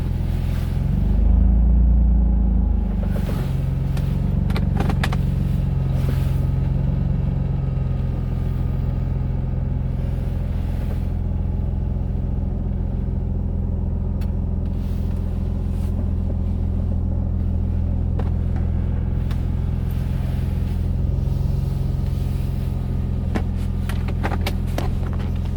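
A Nissan 350Z with an engine misfire pulls out of a driveway, giving a steady low rumble with a brief louder surge near the start and a continuous engine drone after it, close to the listener and with no talking.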